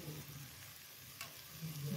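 A spoonful of ghee melts and sizzles in a frying pan, a faint, soft hiss with a low hum underneath and a brief flare partway through.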